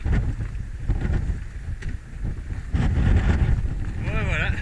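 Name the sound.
wind blowing while cycling in Tierra del Fuego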